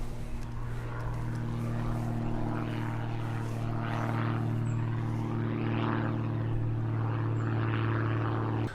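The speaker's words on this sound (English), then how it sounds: "That plane you can probably hear has been circling around for the last hour and a half" A propeller plane circles overhead, its steady low engine drone holding unbroken throughout, fairly loud, with no talking.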